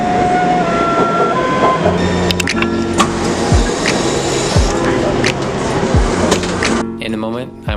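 A loud rumble of a metro train rolling into a station in Tamsui, Taiwan, with squealing brakes and clattering wheels, ending in a harsh hiss.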